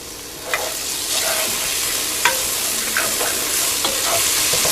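Ginger garlic paste is stirred into dark-browned onions frying for goat curry, giving a loud, close sizzle with scattered scraping strokes of a spoon against the pan.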